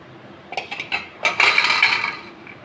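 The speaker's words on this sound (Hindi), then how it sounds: "आप जब मैं अब ये बर्तन में निकालूँगी तो आप इसका साउंड सुनिएगा कितने क्रिस्पी हैं ये" Crispy fried rice flour nachos tipped into a metal vessel, giving a quick run of light clinks and brittle rattling crunches that build into a dense clatter before fading, close and clear with no speech.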